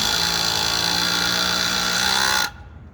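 A Milwaukee M18 Fuel Surge hydraulic impact driver sinks a 2.5-inch screw in one continuous, fairly smooth whirring run that stops sharply near the end.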